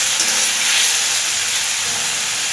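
Tomatoes for a tomato curd pachadi sauté in a pan, giving a steady, even hiss of frying that stays close and fairly loud for the whole stretch, with no talking.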